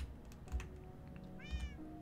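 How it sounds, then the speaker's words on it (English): A Minecraft cat splashes in water and gives a couple of short, faint meows over soft thuds and quiet keyboard tapping. "Why'd you go in the water, cat?"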